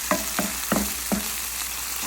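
Gyudon beef mix sautéing in a pan gives a soft steady sizzle, with four or five light scraping stirs at regular intervals and no talking.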